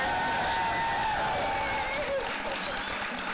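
Applause fills a city council chamber, steady clapping from a gathered audience heard under people talking.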